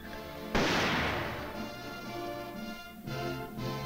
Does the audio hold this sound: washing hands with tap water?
no